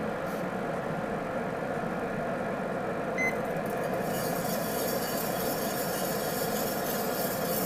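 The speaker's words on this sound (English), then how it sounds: "now you can hear the coffee's turning in there" Green coffee beans tumble in a rotating coffee roaster drum, giving a dense, even rattle over a constant motor hum, with one short beep partway through.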